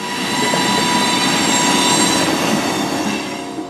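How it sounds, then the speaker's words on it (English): A CSX freight train rumbles past in the distance in downtown Atlanta with a steady roar and faint wheel squeal, swelling and then easing slightly as it goes by. "the CSX train rolling in the distance"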